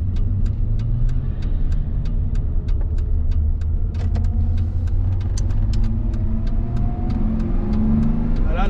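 A 1991 BMW 320i E30 engine accelerating smoothly, a loud continuous rising hum and rumble heard from inside the car with faint regular ticking throughout, no voices.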